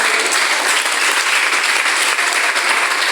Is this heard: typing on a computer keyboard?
no